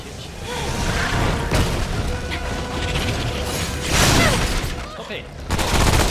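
A turret firing in Remnant from the Ashes, rapid mechanical rattling shots with occasional booms amid combat noise, fairly loud and steady, with a player's voice talking over it.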